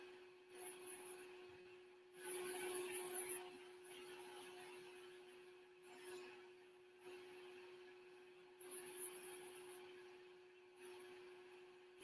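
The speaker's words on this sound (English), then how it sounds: "So it is from a brand called Podotronic, and yes, it does have the built-in vacuum." A Podotronic electric nail file with a built-in vacuum buffs during a waterless pedicure, giving a steady high whine under a low motor hum that swells in repeated bursts as the tool presses and lifts.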